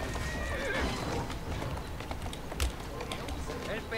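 In Assassin's Creed Syndicate, a horse gallops with rapid, continuous hoofbeats and gives a whinny, loud and close, with faint voices beneath.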